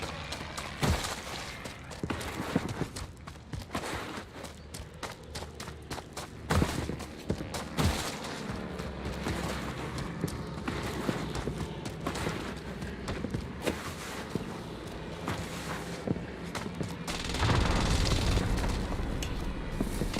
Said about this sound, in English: that's the planes shooting